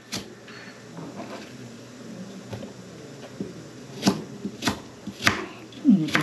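A knife cuts through a washed apple for a salad, with a few sharp, crisp chops clustered near the end over a low background of kitchen handling noise.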